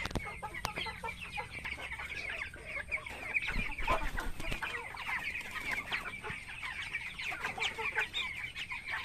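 Broiler chickens in a poultry house cluck and call steadily at close range, many birds overlapping into a continuous busy chorus with no talking.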